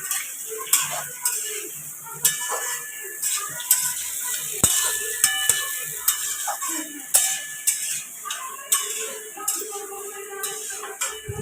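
Raw mango pickle mixture, sweet, sour and spicy, is stirred in a metal vessel: close, repeated scraping strokes with sharp clinks of the spoon against the sides, in an uneven rhythm.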